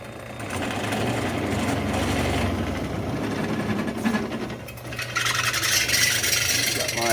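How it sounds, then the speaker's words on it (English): Stepped drill bit opening up small holes in the sheet-metal front torque box of a 1965 Ford Thunderbird convertible, a steady grinding, rasping whir that runs continuously close by, rising sharper and brighter toward the end. "time to open them up with the stepper bit"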